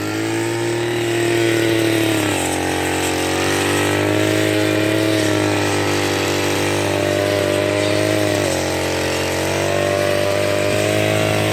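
A petrol grass trimmer holds a loud, steady, high-pitched engine drone while mowing, and its pitch wavers slightly as it sweeps back and forth. It sounds close and continuous, with no speech.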